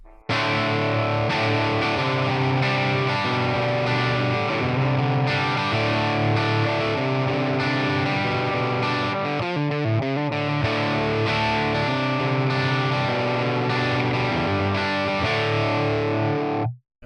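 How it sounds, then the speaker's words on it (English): Electric guitar on its bridge pickup plays through a Tonex One modelling amp set to a fuzzy, saturated character tone, sustained distorted chords ringing loud and continuous for the whole stretch before cutting off at the end. "All right, let's start with a bridge pickup."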